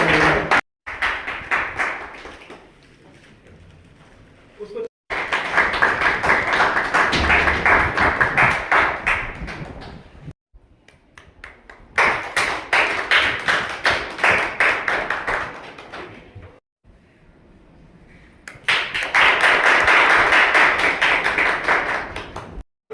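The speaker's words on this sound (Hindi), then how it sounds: "ताली नहीं बजा रहे, ताली बजा रहे" Audience clapping at a memorial gathering for a freedom fighter in Sawath, Durgavati, Kaimur, in three long, loud bursts of dense rhythmic applause separated by quieter gaps.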